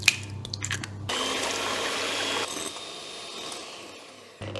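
Eggs being beaten in a bowl with an electric mixer, a steady close whirring hum after a few brief clatters, running for several seconds before stopping near the end.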